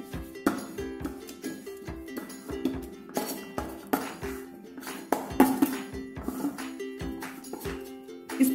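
A spoon spreads hot jaggery and peanut chikki mixture, giving a string of soft, irregular clinks and scrapes against the pan or tray, fairly quiet and close.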